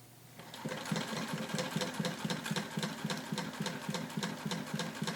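A hand-crank sewing machine stitches quilt pieces together with a fast, even clatter of needle strokes, close and steady throughout, with no voices.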